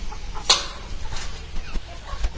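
Backyard chickens at a home poultry setup in Molur, Palakkad, make soft clucks close by, with one sharp brief squawk early on over a low, noisy background.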